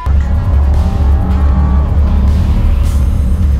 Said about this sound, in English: Under the hood is a 6-liter W12 engine, and it's aided by a pair of turbochargers